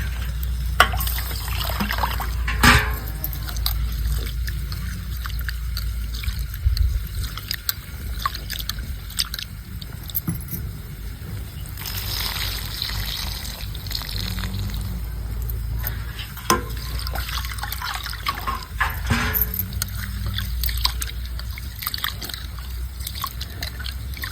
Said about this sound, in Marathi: मसाला भाजस तोपर्यंत आपण तांदूळ धुवून घेता